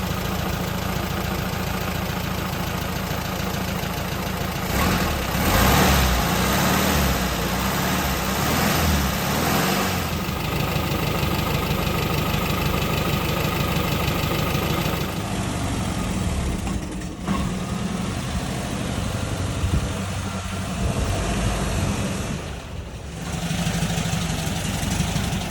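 A 1971 VW Westfalia bus engine idles steadily while warming up, a loud, continuous air-cooled rumble with a slight knocking texture that holds throughout with small shifts in level.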